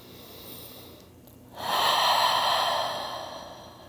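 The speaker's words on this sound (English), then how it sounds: "Take a deep breath in and out here." A slow, deep breath during a gentle stretching flow: a quiet inhale, then a long, audible exhale that swells and fades gradually, close to the mic.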